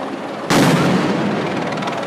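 A flashbang grenade blasts loudly during a street protest in Rio de Janeiro with riot police present, a sudden sharp bang followed by a long, dense rumbling wash of noise and crowd din.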